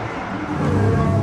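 A drift car with an RB25 engine from an R33 and an HKS 2540 turbo rumbles and revs at a circuit, a loud, dense, continuous engine roar that builds slightly over a brief moment.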